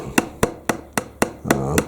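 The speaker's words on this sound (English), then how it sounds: "you want to be careful you don't slam your fingers with the hammer" A hammer drives a staple into metal while a dirt sifter is built, with six sharp, evenly spaced strikes sounding close and clear, the last blow ringing a little longer.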